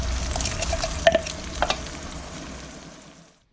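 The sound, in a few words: blended onion frying in a pan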